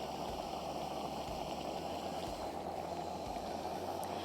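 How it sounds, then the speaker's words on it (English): Water at a steady rolling boil outdoors on a mountain at about 2,000 metres, where it boils at 93.5 degrees; a continuous, even bubbling hiss, close and fairly quiet, with no voices. "So this water is boiling, and yet it's not boiling at 100 degrees."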